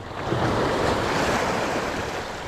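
Morning sea waves surge and wash continuously at a steady roar, with wind buffeting the microphone throughout.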